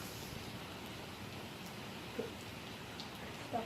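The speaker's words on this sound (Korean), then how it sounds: "비 오는 소리에 오늘 밤 잠이 잘 올 것 같아요." Rain falling steadily at night, a soft continuous hiss with a couple of brief drips or taps standing out near the end.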